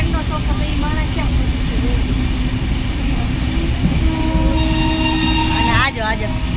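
A passenger train rumbles along steadily, with a horn sounding clearly toward the end over the continuous rail noise; people talk faintly in the background.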